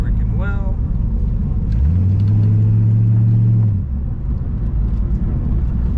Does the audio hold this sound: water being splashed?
no